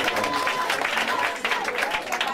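A church congregation claps together in a dense, steady burst of applause filling a large room, with voices mixed in under the clapping throughout.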